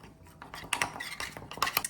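Quick metallic clinks and scrapes of a spoon knocking against a cup, irregular and close, as batter with oat or almond milk is mixed.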